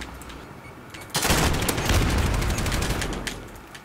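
Gunfire in the shooter game Modern Warfare bursts in after a quiet stretch, a dense, loud volley of rapid automatic shots with booming blasts that tails off slightly over a few seconds, with no talk.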